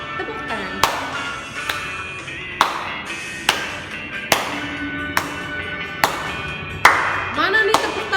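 Sharp, evenly spaced hand claps keep a steady beat, about one each second, over music and speech during a Sunday school worship song at an HKBP church service.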